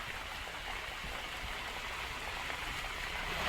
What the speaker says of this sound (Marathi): पुणे आणि पिंपरी चिंचवडसह लोणावळ्यामध्ये देखील या पावसाला सुरुवात झाली आहे